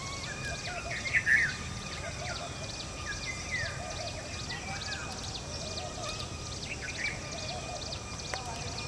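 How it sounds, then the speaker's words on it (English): Faint bird calls and chirps scattered over a steady outdoor hiss, with a brief louder burst early on; distant and soft. "this bird also sing very beautiful song"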